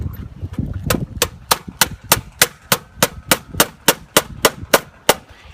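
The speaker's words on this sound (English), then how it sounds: "all I'm going to do is nail them in as if I was going to nail them into the rafters in the attic" A hammer taps nails into the metal bracket of a new-construction Halo recessed can light in an attic, giving a steady series of about fifteen sharp, ringing strikes at a quick, even pace, close and loud.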